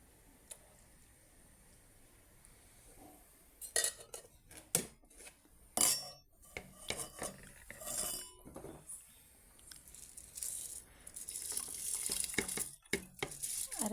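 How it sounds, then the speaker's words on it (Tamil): Uncooked rice is tipped into a cooking pot while tomato rice is made, giving scattered clinks, ticks and light metallic knocks at close range. The sounds are irregular and spread through a quiet background. "பாருங்கள், நான் இப்போது அரிசி ஆட் பண்ணிக்கிறேன்."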